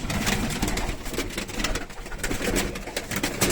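Pigeons coo softly amid a busy, noisy background of fluttering and shuffling, several birds close by with no talking.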